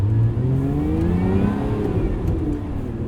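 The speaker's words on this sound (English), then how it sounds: "All that supercharger whine right behind your head" Supercharger whine from the engine mounted just behind the driver of a 2024 Lotus Emira with a six-speed manual, heard from inside the cabin as a steady close whir with rising tones under the engine's drone.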